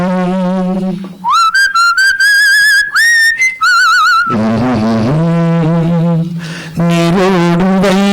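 A person whistles a melodic tune loudly and close, with sustained wavering notes, short staccato phrases and gliding pitch changes, alone without talk.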